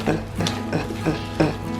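Vanilla pound cake batter is stirred in a mixing bowl, with a spoon or whisk scraping and clinking against the bowl in a few quick, close strokes.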